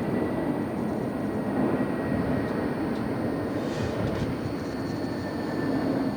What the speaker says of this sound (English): November 635 Frontier now, brand spanking new 321 Neo.